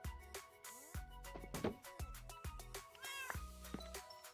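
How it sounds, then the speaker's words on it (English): A cat meows in the middle of video game audio, its calls mixed with music and game sound effects, fairly close and repeated over a few seconds. "I'm gonna get away from the cat. Because he'll meow."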